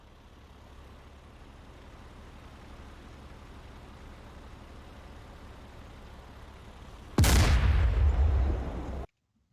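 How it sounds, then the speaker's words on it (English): Friendly artillery fires in DCS: Combined Arms, heard from inside an Abrams tank: a low, steady engine rumble, then one sudden loud boom that rolls on for about two seconds before cutting off. "there our artillery is firing"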